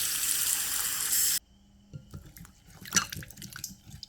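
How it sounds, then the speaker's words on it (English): Tap water gushes steadily over freshly harvested ginger, then stops, leaving scattered drips, splashes and handling noises close by. "run the water on the ginger and it will automatically clean itself"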